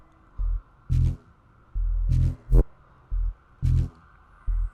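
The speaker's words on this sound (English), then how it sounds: "these are just a couple of like random one-shots from Vital, Serum and Phase Plant" Short synth bass one-shots from Vital, Serum and Phase Plant, drum-and-bass stabs in three textures, hit one after another in punchy separate bursts with brief silences between them.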